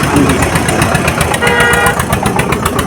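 A modified 1992-model tractor engine runs steadily at close range at a tractor market in Talwandi Sabo, its loud, rough chugging rhythm continuous throughout with a faint rattling vibration.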